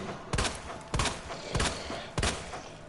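Gunfire in a Resident Evil-style hardcore playthrough as Leon, four evenly spaced shots about half a second apart, each a sharp broadband blast with a short tail.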